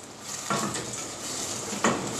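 Boiled caterpillars frying in a pan in Burkina Faso, a steady close sizzle with two brief scraping stirs, no voices.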